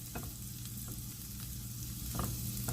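Asparagus spears fry in a pan with a steady, even sizzle that grows slightly louder near the end, marked by a few brief stirring scrapes and no voices.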